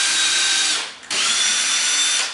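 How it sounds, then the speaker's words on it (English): A power drill bores into the plate part of a ProCraft RTA cabinet, whining loud and close in two steady runs separated by a brief pause. "So I'm kind of drilling into the plate part of it"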